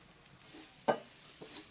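Beef frying in a pot with turmeric, chilli powder and meat masala being stirred in: a soft sizzle under quiet scraping, a distinct clink of the spoon midway and a lighter tap later.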